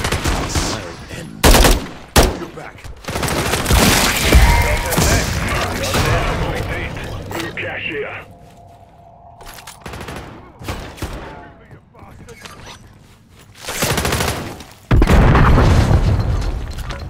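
Gunfire and explosions in the video game Call of Duty: loud bursts of automatic fire and booms in irregular clusters, with quieter stretches and a voice talking in between.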